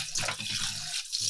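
Water runs from a sink tap as meat grinder parts are washed with soap, a steady splashing rush that fills the short clip with no talking.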